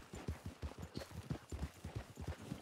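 Horse hooves clip-clopping at a steady walking rhythm in the Red Dead Redemption II world, a pinto horse, close and fairly loud with no voices over it.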